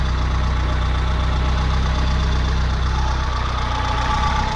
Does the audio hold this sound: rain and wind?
no